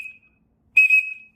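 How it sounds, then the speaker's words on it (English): A small concealable whistle gives two sharp, shrill blasts, a brief faint one and then a louder, longer one after a short silence, heard close and alone. "if we're all blowing the whistles at the same time, that'll amplify it"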